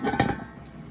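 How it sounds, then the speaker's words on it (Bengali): Pot lid lifted off a pot of duck meat curry cooked with chui jhal, giving a short clink of metal followed by faint scraping as the curry is stirred, close and quiet. "একটু পর পর ঢাকনা তুলবো, নেড়ে দেবো।"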